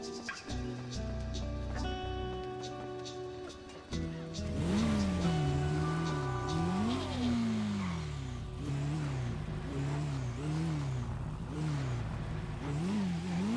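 A motorbike engine in a video game hums and revs as it rides, rising and falling in pitch with repeated throttle swells, fairly quiet and continuous, following some clattering game sounds at the start.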